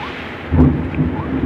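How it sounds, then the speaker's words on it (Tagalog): Thunder rumbles low and steady in the distance over a rainy jungle, with a soft swell of rumbling and rain hiss, no voices. "May dumadalugdog na."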